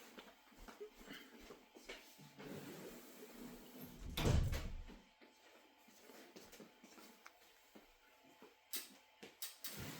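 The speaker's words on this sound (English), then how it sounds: "Okay, shut the door." A door is pushed shut in a home during a missile alert in the Israel–Iran war, giving a single dull thump amid quiet rustling and small handling noises, fairly faint overall.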